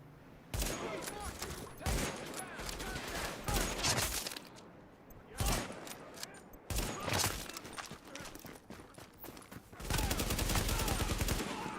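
Bursts of AK rifle fire in a survival video game, several sharp sustained volleys separated by brief pauses, loud and close, with the final burst running longest.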